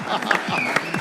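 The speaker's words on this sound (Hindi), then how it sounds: "तालियां बजाइए।" Studio audience applause on a Pakistani television game show, a steady burst of clapping heard close, with voices mixed in.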